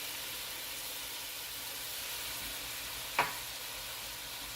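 Rice wine vinegar and soy sauce sizzle in a hot pan with orange rabbit, making a soft, even hiss that holds steady throughout, broken once by a single sharp tap near the end.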